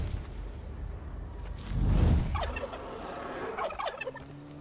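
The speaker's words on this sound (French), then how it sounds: "Mais où le dindon?" A wild turkey gobbles in the video game Far Cry 5, a quick rattling call heard at middle distance after a low whooshing thump, over steady game ambience.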